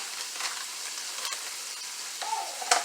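Carrots frying in a pan with meat give a steady, moderate sizzle with a few brief stirring clatters near the end, and no voices.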